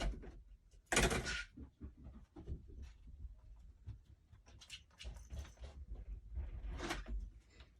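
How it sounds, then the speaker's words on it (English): A pet opens a sliding door: a loud scraping slide near the start, then rustling, thumps and panting nearby, another rattling slide toward the end, no speech. "show me how you open the door"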